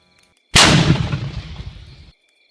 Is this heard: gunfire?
yes